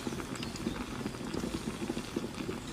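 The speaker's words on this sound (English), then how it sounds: "Bring water to a boil." A pot of water on the stove at a rolling boil, continuous dense bubbling and popping at moderate volume with no voices.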